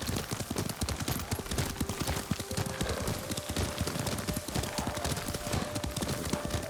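Rapid rhythmic hoofbeats of a horse at a steady gallop in the video game Ghost of Tsushima, close and loud, with a faint sustained tone in the background.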